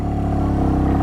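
A 2025 Royal Enfield Meteor 350 motorcycle engine with a slipper clutch pulls steadily under acceleration in low gear, giving a loud, close, even drone throughout.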